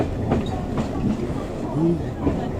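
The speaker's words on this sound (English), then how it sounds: "There's a train." A train rumbles past nearby with a steady low roar and faint rhythmic clatter of wheels, with a voice speaking briefly over it.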